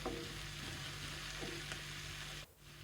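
Green chilies fry slowly in a pan for a Himachali kaddu di maani, producing a steady, close sizzle that dips briefly near the end, with no voices.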